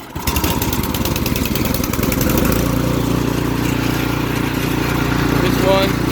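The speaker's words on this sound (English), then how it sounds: "I'll start it up for you guys and see how she moves." An LCT engine swapped into a snowblower, in place of the original Tecumseh, starts and settles into a steady, loud running drone close by, with rough firing at first and a voice speaking over it.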